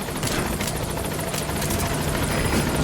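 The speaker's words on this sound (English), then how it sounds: "Support helicopter has arrived." Support helicopter arriving at a landing zone in Metal Gear Solid V: The Phantom Pain, a loud continuous rotor drone with rhythmic blade thumping, steady and close throughout with no voices.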